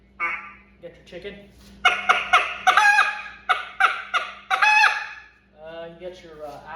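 A duck call worked to imitate a chicken, giving a run of loud, close clucking bursts in quick uneven rhythm, with a softer call at the start and end.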